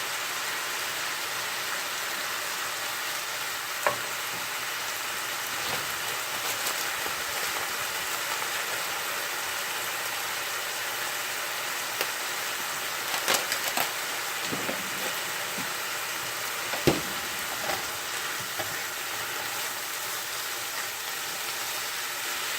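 Cabbage cooks down in a pan for keto chicken lo mein, giving a constant dense rain-like sizzle throughout with occasional faint clicks and knocks.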